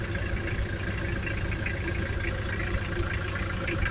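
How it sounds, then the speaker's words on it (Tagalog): Mitsubishi Canter truck with a 4M40 diesel engine idling, a steady low rumble that stays constant and close throughout, with no voices. "Mitsubishi Canter 4M40 ang makina"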